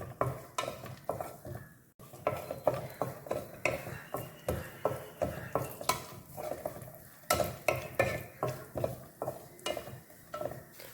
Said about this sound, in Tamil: இது லைட்டாக ப்ரௌன் ஆகிற வரைக்கும் நம்ம இதை வறுத்து எடுத்துக்கலாம்.